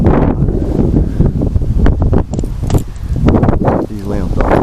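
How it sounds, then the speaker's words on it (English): Strong wind gusting through trees during a tree removal job, a steady rushing roar with rustling bursts and heavy buffeting close to the microphone, continuous across the whole stretch. "that wind is pulling"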